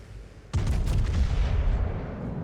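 Warship guns fire in a naval battle game, a sudden loud heavy blast after a quiet moment, followed by a rolling rumble that slowly fades.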